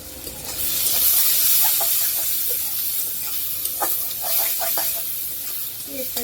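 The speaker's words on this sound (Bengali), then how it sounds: "পেঁয়াজটা ভেজে নিব, ভাজা হোক" Onions fry in a pan with a steady, loud sizzle and hiss. A utensil clinks and scrapes now and then against the pan.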